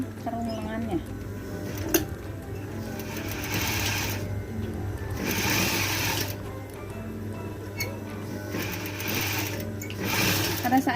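A sewing machine stitches a vest in steady whirring runs that rise and fall several times, close and prominent, while a person talks over it.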